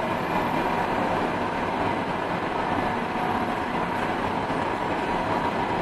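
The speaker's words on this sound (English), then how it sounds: "And there goes that train." A metro train passes at a station, a steady broadband rumble and rail rattle filling the whole stretch at moderate level with no talk.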